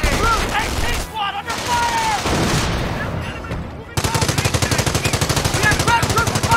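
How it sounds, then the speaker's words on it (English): Machine-gun bursts and rifle fire crackle through a Company of Heroes World War II battle at the Causeway near Cauquigny, rapid rhythmic volleys ending in a long steady burst, with soldiers shouting orders over the shooting. "We have troops firing on us!"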